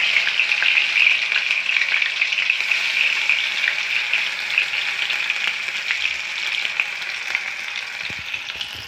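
Dipped food sizzles steadily in hot oil while frying in a home kitchen, a loud, dense crackle that holds throughout with no voices.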